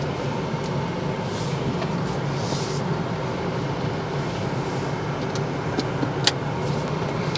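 A car driving on the road, heard from inside the cab as a steady, moderate rumble of engine and road noise with a few faint clicks and no talk.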